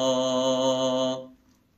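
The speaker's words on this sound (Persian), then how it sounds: "یک لرزش منظمه که در صدا ایجاد میشه." A single sung note is held for about a second with a regular vocal vibrato, then cuts off into near silence. The voice is clear and close, with no talking.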